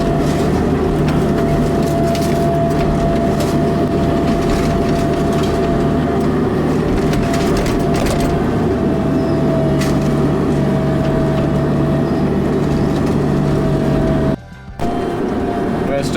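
A mini excavator works at demolishing a garage, its loud engine droning steadily and continuously up close, with a brief cutout shortly before the end.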